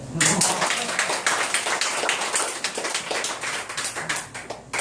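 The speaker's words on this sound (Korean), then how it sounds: "이래도 박수 안 쳐요?" Audience clapping during a Korean history lecture on a heritage tour, a dense burst of hand claps filling the whole stretch fairly loudly with no talk over it.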